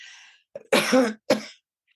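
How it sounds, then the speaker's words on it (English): Two harsh coughs close to the mic, the first longer and raspy, the second a short sharp burst, with silence around them. "I'm going to cough, sorry."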